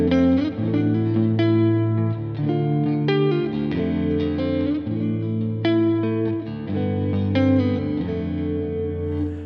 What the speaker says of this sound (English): them single coil tones are really beautiful on this Mayones guitar